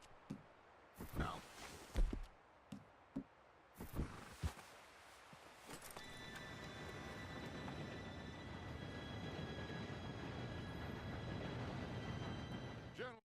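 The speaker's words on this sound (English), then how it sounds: "Train should be here any minute." A train rolls in during a Red Dead Redemption 2 robbery, a steady, swelling rumble with a faint high whine that builds and holds for several seconds after scattered thumps and brief voices.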